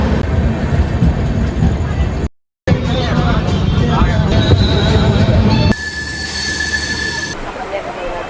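Netaji Express train running on rails, a loud rumbling clatter of wheels with squealing and a brief cut, then a steadier carriage hum with a faint whine.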